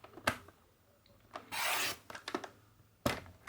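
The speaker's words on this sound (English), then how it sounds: "I want to cut 2 strips that are 3 centimeters wide by about 12 centimeters long" Paper trimmer slicing a strip of cardstock: a few short clicks and taps, then one smooth sustained rasping cut lasting about half a second, followed by more light clicks and a final sharp snap, close and quiet with no talk.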